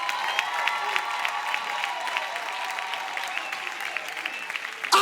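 A church congregation at an evangelistic conference applauds and cheers, a sustained, moderately distant wash of clapping with raised voices mixed in, ending in a brief louder burst.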